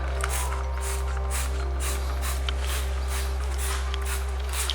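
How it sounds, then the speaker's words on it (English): Repeated short hissing sprays of a green cleaner bottle onto a dirty truck rim pulse in a steady rhythm over a constant low hum. "liberally make sure to spray a lot on there"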